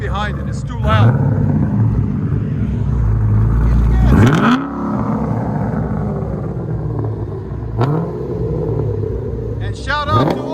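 Close, very loud revving from a cammed 6.0L V8 Pontiac G8 running long tube headers and no muffler: several quick rising throttle blips over a lumpy, loping idle, with people talking over the engine.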